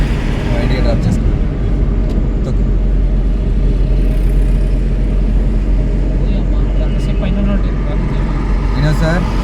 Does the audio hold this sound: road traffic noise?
yes